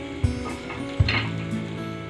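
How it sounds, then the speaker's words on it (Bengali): Veg roll tikki, a pinwheel-style snack, sizzling in hot oil with a steady soft crackle and two sharp clinks of a utensil against the pan. "পরবর্তী ভাজাগুলো আমি একইভাবে ভেজে নেব।"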